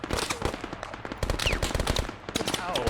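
Dense Arma 3 game gunfire, with rapid machine-gun bursts and single shots crackling loud and close in an almost continuous volley, with voices faintly underneath.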